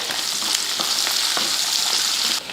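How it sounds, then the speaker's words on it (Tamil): Fennel seeds, curry leaves, shallots and a large onion sautéing in hot oil for a lunchbox dish give off a loud, continuous close-up sizzle, with faint stirring scrapes and no voices. "எண்ணெய் காஞ்சதுமே ஒரு அரை ஸ்பூன் அளவுக்கு சோம்பு கொஞ்சம் கருவேப்பிலை ஒரு பத்து போல் சின்ன வெங்காயம் ஒரு பெரிய வெங்காயம் இதை வதக்கிடுவோம்"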